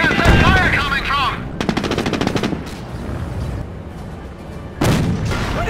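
Automatic machine-gun bursts and scattered gunfire in the World War II strategy game Company of Heroes, a dense rattling volley at the start, sporadic shots through the middle and a fresh burst near the end, with faint voices mixed in.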